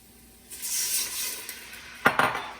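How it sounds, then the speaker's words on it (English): Wine poured into a pan of softened ingredients while cooking mussels with garlic and saffron: a steady hiss and gentle sizzle builds for about a second and a half, then a few sharp clinks of a utensil against the pan. "So the next thing I'm going to do is add the wine"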